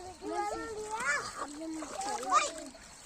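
Water splashes and sloshes as someone rinses their feet outdoors in a village setting, short irregular splashes close by, mixed with children talking and calling over it.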